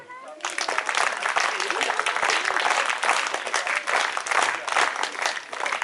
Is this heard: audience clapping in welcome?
yes